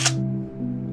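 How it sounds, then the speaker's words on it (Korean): A single crisp camera shutter click in the video game Yakuza Kiwami 2, sharp and close at the very start, followed by a low steady in-game background hum. "찰칵."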